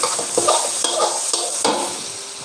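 Pad thai stir-frying in a hot pan with garlic and chilli gives a loud, steady sizzle, broken by regular scraping strokes of a spatula against the metal, close up and with no voices.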